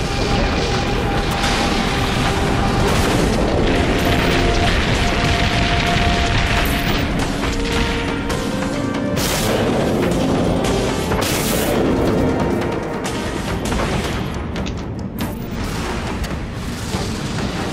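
A defeated ship explodes in the space combat game Dreadnought, with loud, sustained rumbling booms and blasts filling the whole stretch, dense and continuous with a few sharper bursts.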